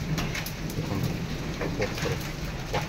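Hailstones fall together with heavy rain in a storm, a dense steady patter with scattered sharper impacts standing out near the listener throughout.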